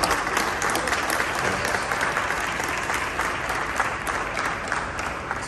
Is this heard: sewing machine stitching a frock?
no